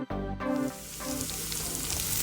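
Portobello mushroom and walnut mixture sizzles on a stovetop pan, a steady close frying hiss that jumps in loudness as the mixture hits the pan and then holds, with no talking.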